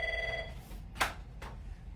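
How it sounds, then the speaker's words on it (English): A phone rings during a live medical talk on post-operative evaluation of pancreatic cancer: a tonal ring is followed by two sharp, bright clicks as the handset is handled, with no voices. "And the phone's ringing, but I'm going to hang it up."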